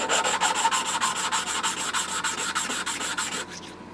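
Hand sanding with fine-grit abrasive and a little water, resurfacing a part from a Mark 4 Volkswagen Golf engine; steady rhythmic back-and-forth rubbing strokes, close and fairly loud, slowing and stopping at the end.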